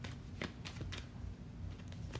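Tarot cards being shuffled during a reading, a quiet series of soft riffling and slapping bursts repeating at an irregular rhythm, close but faint, with no talking.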